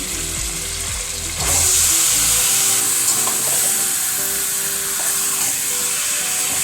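Chicken meat tipped into a hot pan of fried chillies, tomato, sugar and salt for biryani gives a loud, steady sizzle that flares up as the meat lands and keeps crackling close by, with no talking.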